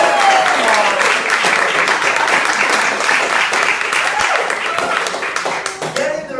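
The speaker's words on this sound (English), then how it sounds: "Guys, can I please get a round of applause for Jimmy and Diana?" A crowd gives a round of applause for a newly qualified young couple at an event in West Palm Beach, loud, close, steady clapping with some voices mixed into it before it begins to thin at the end.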